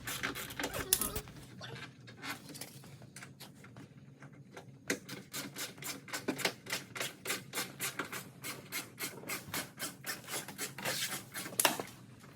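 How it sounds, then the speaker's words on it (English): Long screw being backed out with a 7mm socket while removing a fender flare on a 2020 Dodge Challenger Hellcat Redeye widebody, a quiet steady train of rapid ratcheting clicks with a brief clatter near the end. "remove the one screw that's down there with using our 7mm socket"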